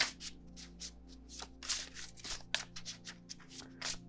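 Tarot cards are shuffled in quick, crisp bursts of riffling, repeated irregularly at close range with short pauses between.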